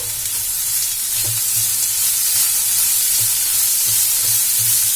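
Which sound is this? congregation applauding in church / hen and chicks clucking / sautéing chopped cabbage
sautéing chopped cabbage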